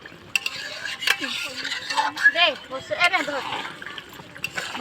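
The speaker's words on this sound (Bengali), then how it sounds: "এখনও দশ পনেরো মিনিট পর্যন্ত মাংসটাকে কষে নেব" About three and a half kilograms of meat with spices are stirred and sautéed in a large pot for a picnic meal, with a spatula scraping and clattering over a steady sizzle close by, under a person talking.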